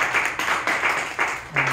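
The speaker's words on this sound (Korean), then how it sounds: "우리 박수로 한번." An audience at a church seminar gives a short burst of clapping, a few quick uneven rounds of claps close by, lasting under two seconds.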